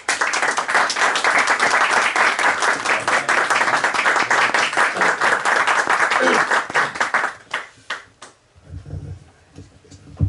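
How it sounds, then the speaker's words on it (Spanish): A crowd at a book launch applauds loudly and steadily for several seconds, then the clapping thins out into scattered claps and fades. "Ahora sí, un aplauso para ellos."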